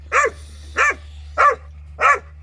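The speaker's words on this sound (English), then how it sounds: "Good boy, Pace. Good dog" A dog barks four times in an even, spaced rhythm, each bark close and loud over a low steady hum, with no talking.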